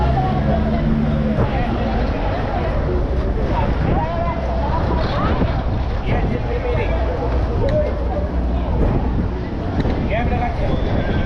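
Strong wind buffets the microphone throughout in a constant loud roar, with faint voices and outdoor noise underneath, on city streets in central Pretoria.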